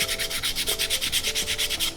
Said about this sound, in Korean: 요걸로 모서리 부분 그리고 요 부분 사포 작업을 해주실 거예요.